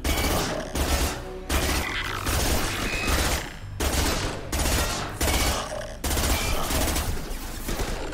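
Bursts of gunfire from a newly switched weapon in the game Mass Effect 2, rapid loud volleys in repeated bursts separated by brief gaps, dense and continuous through each burst.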